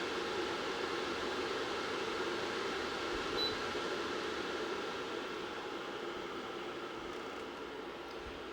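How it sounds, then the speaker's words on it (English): A JOWSET smart HEPA air purifier fan blows on its turbo setting, a steady loud broadband whoosh of moving air that holds constant close to the microphone. "So if I turn turbo on and confirm it, it does pick up. And this does blow quite a bit of air."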